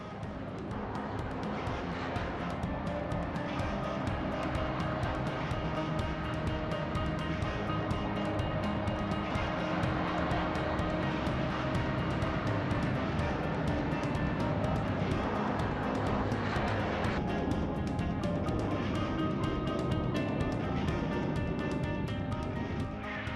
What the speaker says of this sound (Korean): 리더를 선두로 시속 250km로 활주로를 질주하는 8명의 조종사들.